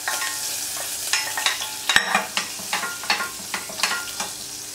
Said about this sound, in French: On met à fondre une petite noix de beurre.